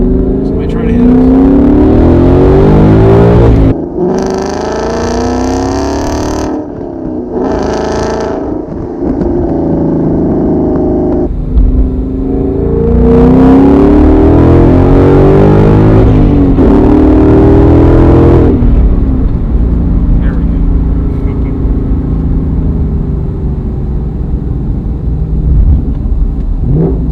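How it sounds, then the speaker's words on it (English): A 2018-2019 Ford Mustang GT with a manual transmission accelerates hard through several gear changes, its loud engine rising and dropping in pitch between shifts, heard from the cabin with people talking over it. "being back in a manual transmission car, this is a short, sweet drive, but it's so much fun to row gears"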